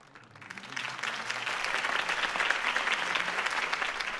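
Crowd applause from an audience after a campaign speech in Batman: The Telltale Series, rising quickly and holding as a steady, dense clapping wash for several seconds with no talking.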